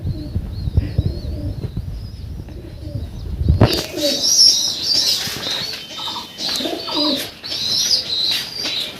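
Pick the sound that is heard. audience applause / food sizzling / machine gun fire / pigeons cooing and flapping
pigeons cooing and flapping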